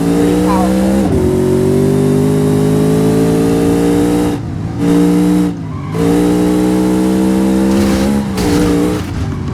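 A modded, tuned car engine in BeamNG.Drive roars at high revs, loud and sustained, with sharp drops as gears shift or the throttle lifts, then climbing again, plus brief tire squeal.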